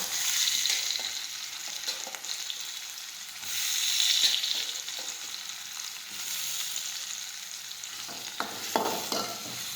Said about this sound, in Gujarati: હવે સાતળી લઈશું